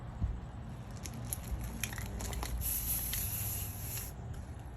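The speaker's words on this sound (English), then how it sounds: "Okay, spray away." A hissing burst of spray, fairly close, rising and lingering for a couple of seconds over a low background rumble, with small clicks at the start.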